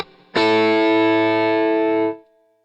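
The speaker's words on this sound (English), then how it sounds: "I did this bend, which is like a country type bend." A distorted electric guitar plays a country-style string bend through an effects unit, one sustained note rising in pitch and ringing loud and alone for close to two seconds before stopping cleanly.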